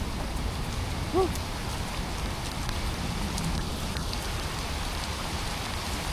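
Steady rain patters on a surface with a dense, even hiss, moderately loud and continuous, with no voices.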